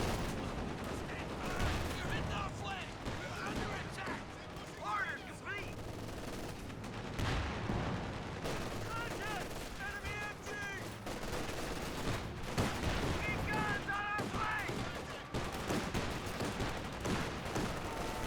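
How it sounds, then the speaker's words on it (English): Anti-tank guns fire in a Company of Heroes 2 battle amid a dense, continuous mix of gunshots and explosions, with a commentator talking throughout over the din. "Double AT gun firing away."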